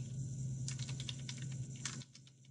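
Keyboard typing during a class lecture demo, a quick run of clustered key clicks over a steady low hum, briefly quieter near the end.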